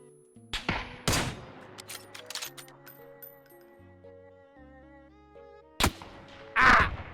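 Gunfire in the video game PUBG, a few sharp scattered shots with ringing decay, including a louder burst near the end, heard amid sparse in-game sounds without talk.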